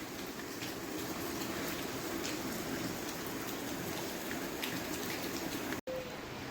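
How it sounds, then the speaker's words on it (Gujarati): Heavy rain pours down steadily outdoors, a dense, even hiss of drops striking surfaces, with one brief dropout near the end. "જો જોરદાર રેડું પડી ગયું, પાણી વૈયા જાય એવું"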